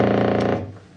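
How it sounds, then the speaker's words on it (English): A steady electrical buzz from a television picture tube with a dense stack of harmonics, loud and close, fading somewhat toward the end. "this is the sound of the picture tube."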